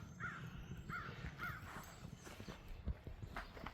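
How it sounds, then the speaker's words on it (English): Several crows caw in the distance, a few short harsh calls spread across the clip, over steady background noise and faint footsteps, outdoors during a heavy snowstorm. "There's some crows over there yakking away."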